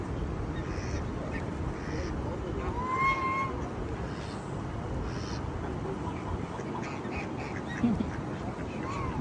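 Several ducks being fed bread quack and call against a steady wash of outdoor background noise, with a few brief voices mixed in.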